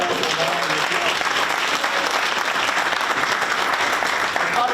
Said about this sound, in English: Listen, give yourself a round of applause.